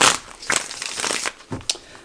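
Tarot cards are shuffled close up in quick scratchy riffles and snaps, a few bursts in two seconds with short pauses between them.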